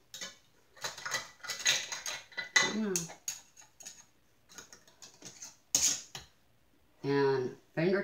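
A metal lid is set on a glass jar of homemade apple pie filling and screwed down, giving close clinks and a short scraping twist, with a person talking over it.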